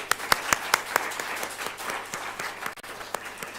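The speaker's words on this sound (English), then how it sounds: "you got a nice applause" Conference audience at the Krusevo Conference applauding, a dense crowd clapping with a few sharp, prominent individual claps near the front, steady and moderately loud, no talk over it.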